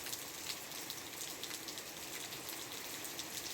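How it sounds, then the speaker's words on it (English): Steady rain falls outside a countryside home, a soft even hiss with faint scattered drops, moderately distant and alone. "It's now raining."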